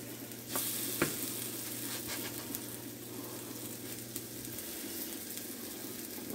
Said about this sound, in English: continue to fry these up, and I'll bring you back when we're ready to flip them.